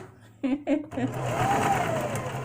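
A sewing machine stitches fabric in a steady whirring run after a few short bursts of speech, then hums continuously at close range.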